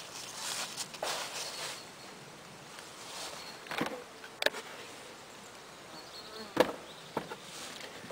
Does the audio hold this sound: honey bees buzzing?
yes